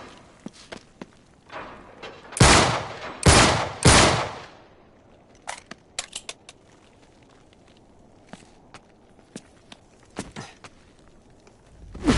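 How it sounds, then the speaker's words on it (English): Gunfire in the action game Uncharted 3 as a lock is shot open: several loud, sharp bursts close together, then scattered lighter thumps and footsteps-like taps amid quiet. "Back up, I'll shoot the lock."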